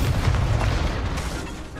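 A deep whooshing burst of the Incendio fire spell from Hogwarts Legacy swells up loud and low, then trails off over under two seconds.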